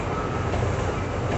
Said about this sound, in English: there's a train. The Atlantic City line goes from Philadelphia